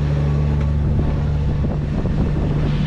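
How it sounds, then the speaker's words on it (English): A sailboat motor sailing under a reefed main into a light headwind off Catalina Island, a steady engine drone with a low hum, wind buffeting the microphone and water rushing past, with no talk. "We've got a little bit of wind on our nose, so we're still motor sailing with reefed main."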